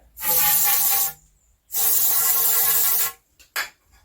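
Two long hissing bursts of silicone spray from an aerosol can, close and loud, each lasting about a second, followed by a short final puff, used to lubricate the O-ring of a Reximex Regime air rifle's regulator.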